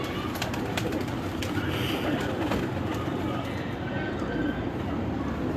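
Pigeons kept on a rooftop coo softly amid a steady flutter and rustle of birds, a close, busy flock with someone talking quietly now and then.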